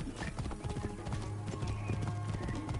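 Horses in Assassin's Creed Origins galloping, with rapid clip-clop hoofbeats layered over one another, a whinny, and a low steady music bed underneath.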